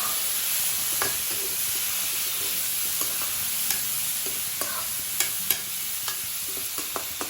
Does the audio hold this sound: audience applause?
no